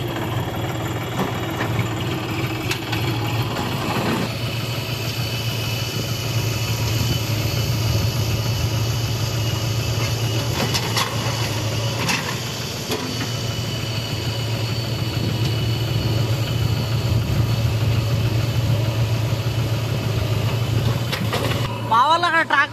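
A tractor engine runs steadily at a village site where soil is being loaded, a constant low rumbling drone throughout, with people talking over it.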